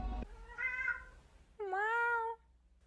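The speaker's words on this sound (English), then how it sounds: "Meow. Meow. Meow." A cat gives two distinct meows close by, the first shorter and the second louder and more drawn out, after a brief thump at the start.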